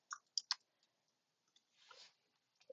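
A computer mouse clicking a few times, faint and close, with two quick clicks in a row followed by sparse single taps and a short soft rustle.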